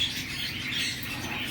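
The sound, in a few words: pet bird chirping at bird store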